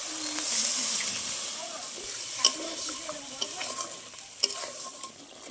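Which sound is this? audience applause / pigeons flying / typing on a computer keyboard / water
water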